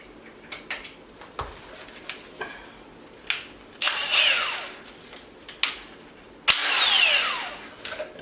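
A power tool spins off a locking lug nut on a 2002 Miata wheel, with short clicks and taps followed by two loud, close whirring bursts that rise and fall.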